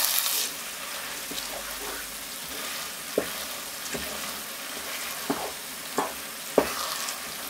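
Tomato, oregano and a cinnamon stick sizzle steadily in a hot pan for pastitsio, with a constant frying hiss and occasional scraping stirs, and no talking.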